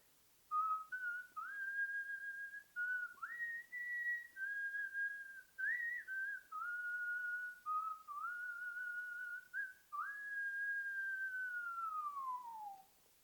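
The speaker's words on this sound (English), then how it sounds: "So imagine that you hear somebody whistling." A person whistles a slow melodic tune alone in a quiet room, clear sustained notes with small slides, ending in a long falling glide.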